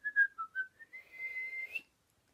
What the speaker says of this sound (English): Can you whistle? I can whistle.